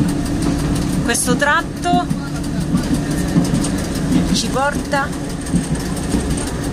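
Etna wine train engine on the rails in Sicily, a steady rumbling idle with a few rising squeals from the wheels; an Italian voice talks over it.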